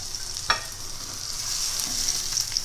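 Beef patties fry in a pan with a steady, bright sizzle up close, punctuated by a single sharp scrape of a spatula early on and soft shifting noises afterward, no voices.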